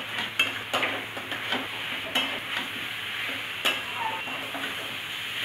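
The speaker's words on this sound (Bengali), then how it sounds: "মশলার সাথে বেশ ভালো করে মাখিয়ে কষাবো এই চাল আর ডালটাকে" Washed rice and lentils being sautéed with spices in a pan for Bengali khichuri, a steady sizzle with repeated spatula scrapes and clinks against the pan, close and clear.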